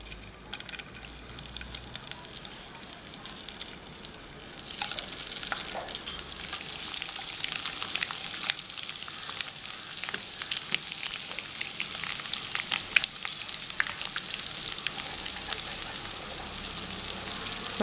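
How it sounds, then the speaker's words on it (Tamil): Cut eggs fry in a masala of sautéed spice powder for an egg biryani cooked outdoors in a village, a steady loud sizzle that swells after a few seconds, with occasional scraping stirs and no talking. "மசாலாவில் இந்த முட்டையை ஃப்ரை பண்ணி எடுத்துக்கலாம்."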